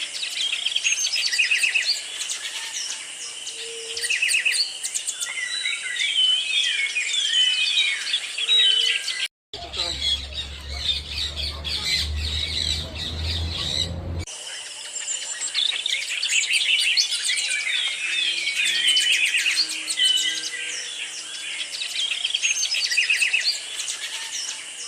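Many birds chirping and calling densely at Parotte Ville Bird Sanctuary in Sint Maarten, a busy, close chorus filling nearly the whole stretch, broken by a short break of other sound midway.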